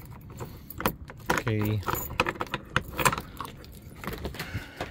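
Car keys jingle and clink in a short burst near the mic, briefly rustling against each other, with someone speaking one word and a vehicle setting around.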